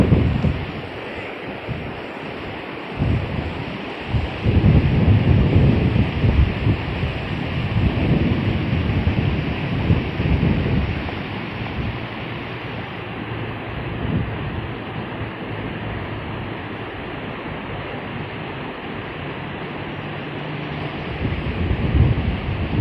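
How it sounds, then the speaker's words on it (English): A river flows past an old sawmill site in winter, a continuous close rushing wash of water with gusty wind noise over it, steady throughout with no talk. "nothing like the soothing sound of flowing water"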